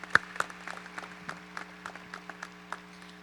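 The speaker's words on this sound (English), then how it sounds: "Let's give another round of applause to all of our senior athletes on this awesome day." Audience applause at a high school National Signing Day ceremony for senior athletes, scattered hand claps from a modest crowd in a large room, fairly distant and sparse with a steady hum underneath.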